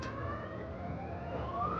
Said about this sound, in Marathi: सायरन वाजायला लागलाय मित्रांनो.